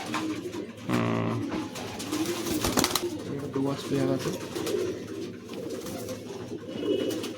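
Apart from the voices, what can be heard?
pigeons cooing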